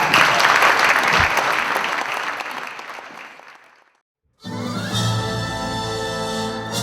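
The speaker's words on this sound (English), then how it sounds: "let's give them a round of applause" Audience applause at an entertainment show, steady dense clapping that fades out to silence, followed by a different sound with music-like tones.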